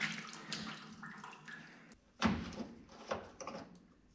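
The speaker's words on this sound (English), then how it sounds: "drain the coolant at this location" Coolant draining from the water lines of a Subaru engine fitted in a VW Bug, faint irregular trickles and splashes with a few clunks, quiet and close.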